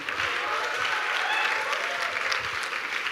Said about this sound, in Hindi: एक बार दोनों के लिए दो जोरदार तालियां